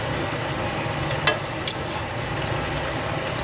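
Pasta being stirred in a hot pan, giving a steady low sizzle and frying hiss with a couple of brief scraping clicks from the utensil, close and moderately loud with no talking.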